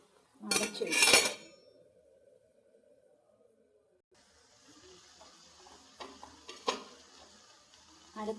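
A spoon clatters and scrapes loudly against a pan for about a second while broad bean thoran is stirred, then a soft low cooking hiss continues with a few lighter clinks and scrapes near the end.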